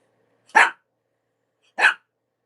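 A dog gives two separate barks, each short and sharp, with a quiet pause between them.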